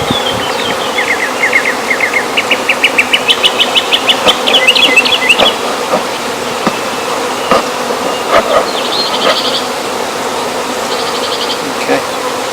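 Honeybees buzz steadily around an open top bar hive during an inspection among combs coated with propolis and a little wax, with louder rising hums as bees fly close past and faint birdsong in the background.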